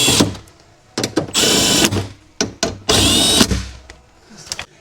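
Power drill on its lowest setting driving window motor assembly bolts on a 2002-2006 Jeep Liberty Limited, heard as several close, loud whirring bursts of varying length with short gaps between them.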